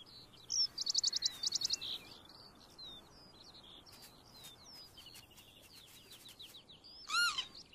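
Young skylark chicks calling in the wild while chasing their parents for food, with a quick burst of high chirps followed by scattered thin tweets and a final louder call, over a quiet outdoor background.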